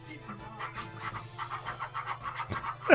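A dog pants rapidly and close by after an energetic run on plowed snowy streets, steady rhythmic breaths with a person talking over it.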